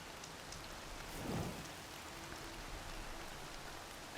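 Steady rain pours down in Horizon Forbidden West, a constant broadband hiss of drops on surfaces with a brief low rumble swelling near the middle, no voices over it.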